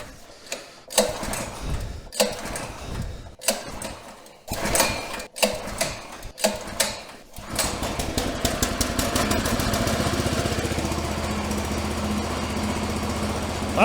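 An engine newly fitted to an old tractor cranks in several separate bursts, then catches and settles into a steady, rapid idling chug, close and loud.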